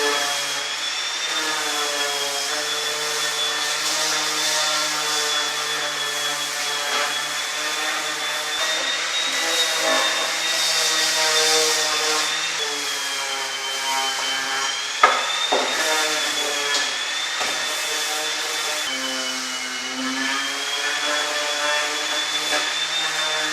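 A power sander drones continuously at close range on wood, its motor hum wavering slightly in pitch, with a brief knock partway through.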